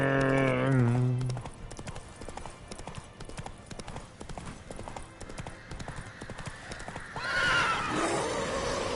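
A horse in The Witcher 3 lets out a loud whinny, then its hooves clatter in a fast, steady gallop, with a game soundtrack and a distant voice underneath.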